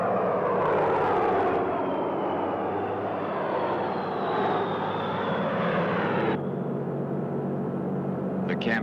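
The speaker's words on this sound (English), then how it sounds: "A fleet of vintage B-17 bombers was converted to drop insecticide." A vintage B-17 bomber converted to spray insecticide drones overhead, its piston engines a loud steady roar with a shifting pitch that cuts off abruptly near the end.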